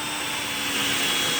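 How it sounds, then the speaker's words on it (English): A drill bit runs steadily through wood, boring out a line for a woodworking spiral Christmas tree project; a continuous, fairly loud motor whine and grinding with no pauses. "we're going to just kind of keep running the drill bit in here and kind of drill out a line"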